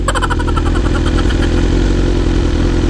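A BMW big bike motorcycle engine runs close and loud, a steady, even rumble that holds throughout without revving up or down.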